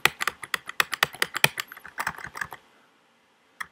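Rapid typing on a computer keyboard: a close, brisk run of crisp key clicks for about two and a half seconds, then a pause and one final isolated keystroke, with no talk.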